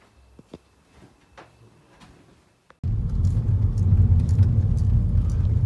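An Audi S5 pulls into a tyre shop: after a quiet start with a few small clicks and knocks, a low engine rumble abruptly swells in and holds steady and close, like the car rolling into an enclosed bay.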